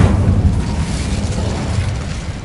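A fire spell blast in Hogwarts Legacy, a loud, sustained rumbling boom with dense low-end roar filling the whole stretch, no speech over it.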